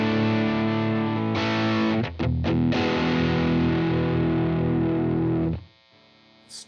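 Electric guitar played through a Lytt Effects Tone Meister pedal on its high-gain side, with op-amp clipping: loud, thick distorted chords sustain, break into short choppy strums, then ring out and stop near the end.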